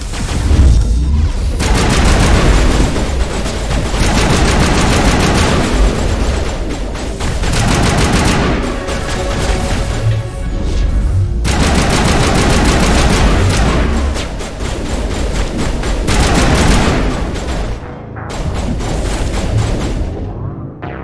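Sustained, loud gunfire in a Mass Effect firefight: dense automatic bursts and heavy shots crack almost without pause, with brief gaps between volleys and a short lull near the end.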